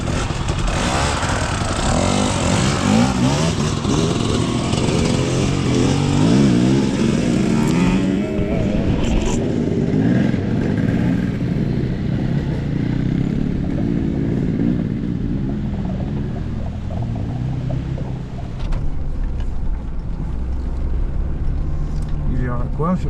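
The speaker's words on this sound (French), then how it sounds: "Laisse les motos passer." Motorcycles passing on a road during a rally drive, a dense, loud engine roar swelling and fading beneath continuous French talk inside a vehicle.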